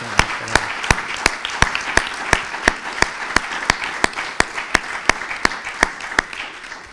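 Audience applause of thanks at the close of an education innovation conference, dominated by a steady, evenly spaced clap repeating roughly twice a second over a softer wash of crowd clapping for about seven seconds.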